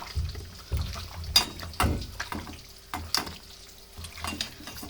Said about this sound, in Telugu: బాగా మిక్స్ చేసాం అల్లం చిన్నుల్లిపాయ